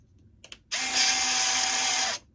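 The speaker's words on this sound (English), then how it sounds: "Just giving it a little tightening there, just a little test fit tightening." Small power driver whirring steadily for about a second and a half while tightening screws on a Dynam Meteor S+ model plane during a landing gear test fit, preceded by a couple of faint clicks.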